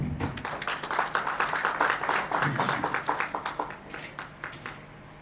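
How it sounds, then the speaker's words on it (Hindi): Audience claps at a rural farmers' awareness program in Faridabad, with distinct, fairly close hand claps in a lively burst that gradually thins out into a few scattered claps. "इनके लिए जोरदार तालियां"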